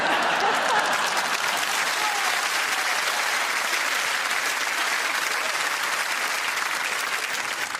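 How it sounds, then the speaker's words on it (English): Studio audience applauding on a TV quiz show, a dense, sustained burst of clapping from a large crowd, loud and steady throughout before easing slightly at the end, with no talk over it. "People clap for anything,"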